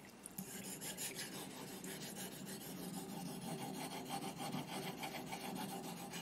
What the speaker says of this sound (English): Remember to use all parts of your stone when you're sharpening.